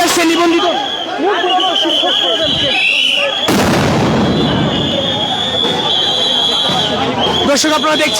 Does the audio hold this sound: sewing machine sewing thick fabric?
no